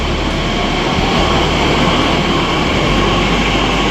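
A loud, continuous rumble of a metro train in motion in Pune, a dense roar with a deep hum underneath and no voices.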